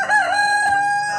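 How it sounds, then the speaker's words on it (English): A rooster crows once in a single short cock-a-doodle-doo on a pasture-raised family egg farm near Sacramento, loud and close with a faint outdoor background. "They're out eating bugs, screaming at the wind, they're having a great chicken life."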